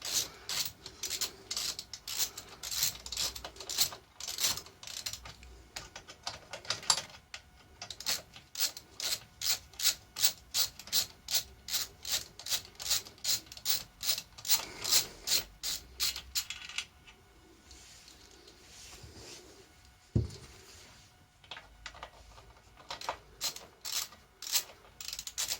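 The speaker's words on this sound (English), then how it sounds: "I want to remove these two bolts that are holding on the footrest" A hand ratchet works the footrest bolts on a Honda VFR 750 motorcycle, giving long runs of rhythmic, close clicking strokes, then slower sparse clicks with a single sharp metallic knock near the end.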